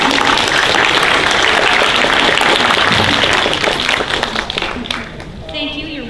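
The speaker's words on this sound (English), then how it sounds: "Round of applause for Mama Karen." Loud applause from a live audience at a stage show, a thick wash of clapping that fades over the last seconds as a voice begins speaking over it.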